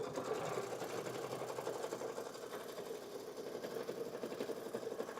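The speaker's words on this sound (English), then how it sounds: "I'm just going to sew." A domestic sewing machine stitching fabric for a pouch runs at a steady, rapid mechanical chatter, close and continuous with no pauses or voices.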